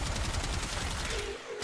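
Rapid gunfire from the Gotva Prime rifle in the Warframe video game, a dense, sustained burst of shots that runs loud for over a second before tapering off.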